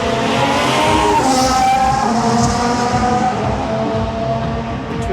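A Haas Formula 1 car screams past during the 2023 Singapore Grand Prix night race, a loud high-pitched engine whine that swells and holds steady across the stretch with a continuous roar of circuit noise.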